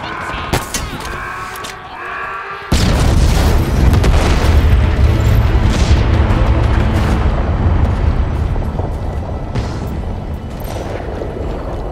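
Explosions in the video game Halo Infinite: after a few sharp pops, a sudden loud blast opens into a sustained, dense roar of booms and crackling debris that fades slightly toward the end.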